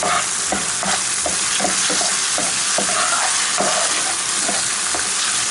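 Seafood chermoula sauce with tomato paste cooking in a pan, a loud, dense, continuous sizzle with faint repeated stirring knocks beneath it and no talking.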